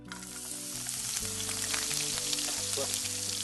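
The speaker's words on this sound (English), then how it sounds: "I've got a hot pan and I'm going to add a little more olive oil to it. Start with my carrots." Julienned carrots sizzle in hot olive oil in a pan, a loud, continuous frying hiss that holds steady throughout with faint crackles and no voices.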